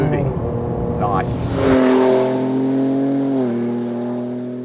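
A Ford Ranger Raptor accelerates hard, its engine note climbing in steady rising harmonics and then holding a strong, close drone, with a short voice at the start.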